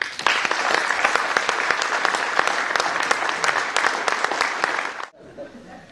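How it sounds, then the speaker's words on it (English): Audience applause fills a hall at a Rotary youth speaking competition in Portsmouth Guildhall, a dense, steady round of clapping that cuts off abruptly near the end, leaving a quiet room. "I hope you'll join me in giving Tom a round of applause"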